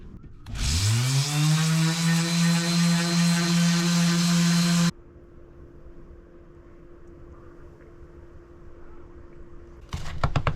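A power sander fitted with 100 grit paper works a wooden cat clock. Its motor winds up to a loud, steady whine for about four seconds, then cuts off abruptly, leaving a low hum and a brief clatter at the end.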